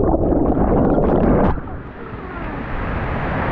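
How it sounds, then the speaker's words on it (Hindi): A river's rushing water flows loudly and steadily near a living root bridge in Meghalaya, then drops to a softer, broad wash of gurgling and wind-like rumble. "यहाँ से देखो नदी जा रही है"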